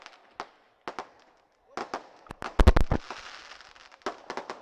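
Firecrackers burst at an outdoor political rally in irregular sharp bangs, with one rapid close cluster of loud pops in the middle and scattered cracks before and after.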